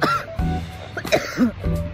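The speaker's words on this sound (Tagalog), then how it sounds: "inuubo pa rin ako ng sobra-sobra." Several harsh coughs and throat-clearing bursts close up, coming in quick uneven fits over about two seconds.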